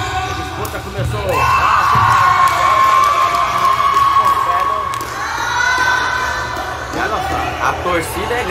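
A large crowd cheers and shouts loudly throughout a peteca championship final in Rondônia, the roar swelling and ebbing, with a sustained whistle or horn tone and scattered whoops.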